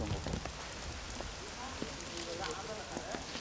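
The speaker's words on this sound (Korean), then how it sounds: "비가 오니까 좋지" Steady rain pattering on a rooftop garden atop a ten-storey building, a dense, even hiss with scattered drop taps throughout, close and continuous.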